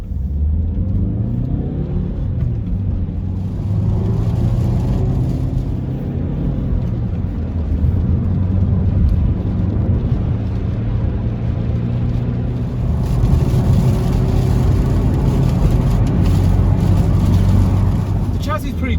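A Hyundai i30 Deluxe diesel pulls from first gear onto a motorway, its engine droning and rising through the gears with road rumble underneath. It is heard steadily from inside the cabin.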